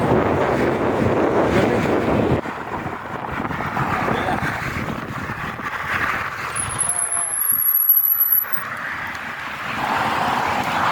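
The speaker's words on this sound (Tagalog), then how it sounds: "Lakas na hangin oh." Strong wind on a footbridge buffets the microphone with a heavy low rumble, briefly easing before gusting again; a faint high whine appears midway.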